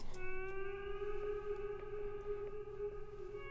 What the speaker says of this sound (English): I added this little bold guitar sound from Omnisphere that I just love.